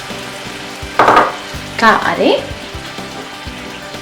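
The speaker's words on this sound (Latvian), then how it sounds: "Ar mūsu gaļiņu izsātētos pieliejam krūži ūdens" A cup of water hits frying chicken drumstick meat in a hot pan, bursting into two loud sizzling surges over a steady fry, with a voice speaking briefly.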